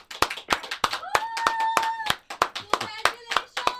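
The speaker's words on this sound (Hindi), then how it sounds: "ताली बज रही है" A few people clap hands at a showroom inauguration right after a ribbon cutting, sharp uneven claps close by while a voice talks and whistles or hoots over them.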